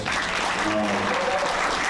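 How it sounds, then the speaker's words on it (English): An audience in a hall breaking into sustained applause for a speaker, a dense even wash of clapping at moderate distance with a voice briefly audible beneath it. "Brother Corey Flynn, let's give him a round of applause"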